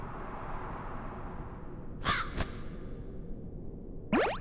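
A bird caws in the Kingdom Hearts II video game, a few short harsh calls spaced apart over a steady low background.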